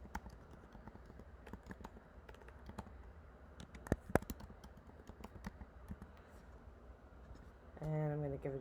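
Keys on a computer keyboard are tapped in quiet, irregular bursts of sharp clicks, close by in a calm room. A short tonal sound or voice enters right at the end.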